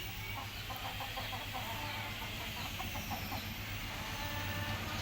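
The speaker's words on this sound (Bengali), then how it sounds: "আমার একটা মোরগ আর 5টা মুরগি।" Native free-range hens and a rooster on a small backyard poultry farm, clucking softly in a steady broken pattern under a constant low hum and background noise, no one speaking.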